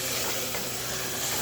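Chicken frying with spices while being stirred, a dense, continuous hiss and crackle from close by, fairly quiet and unbroken for the whole short stretch.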